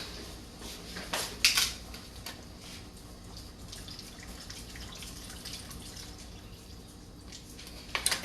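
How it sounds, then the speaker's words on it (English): Jug water is poured into a cooking pot of stewed okra on the stove, giving a quiet, continuous trickle with a few sharp clinks at the start and the end, close by and with no voices. "now I can add some more water to my pot"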